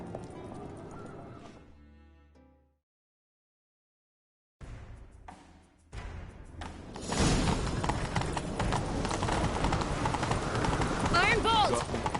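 Horse galloping in The Witcher 3, rapid rhythmic hoofbeats that start after a short silent gap and build to loud continuous pounding, with characters talking during the chase.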